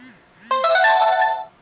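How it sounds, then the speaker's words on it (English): A phone ringtone goes off in a room: a bright, tonal electronic melody rings out loudly for about a second after a couple of faint softer chirps, then cuts off. "don't you just love it when the phone goes off during a video?"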